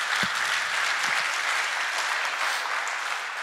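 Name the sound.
audience applause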